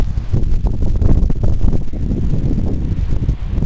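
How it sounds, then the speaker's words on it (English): Strong gust-front wind from a severe thunderstorm over a grassy field in State College, Pennsylvania, roars and buffets the microphone loudly and steadily throughout, with no talking. "That's how strong the wind is."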